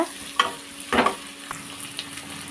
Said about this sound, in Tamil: பூண்டு கூடவே சேர்த்து நல்லா வெங்காயத்தை வதக்கிக்கோங்க